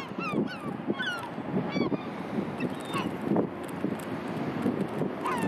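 Seagulls call repeatedly near and far in honking, yelping cries over gusting wind noise on the microphone.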